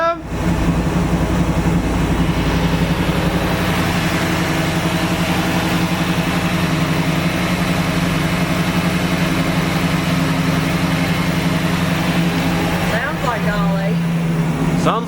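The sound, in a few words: Camaro car engine idling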